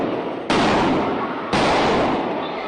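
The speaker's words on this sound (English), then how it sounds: "Gunfire interrupting a quiet church service." Two loud, sharp gunshot blasts ring out about a second apart inside a church during a service, each followed by a long reverberant decay.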